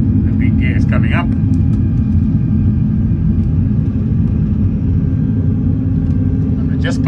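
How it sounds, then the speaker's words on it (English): Inside a heavily loaded Boeing 747-400 climbing after takeoff, a deep continuous rumble fills the cockpit as the landing gear retracts, with brief faint clicks and chimes near the start and end. "The big gear is coming up."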